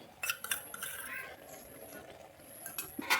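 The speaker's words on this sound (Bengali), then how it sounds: "ঘি দিয়ে আমি এটাকে একটু নেড়ে নিচ্ছি" A spoon stirs half-cooked vegetable rice pulao with ghee in a pot, making scattered metallic clinks and scrapes over a faint, soft sizzle.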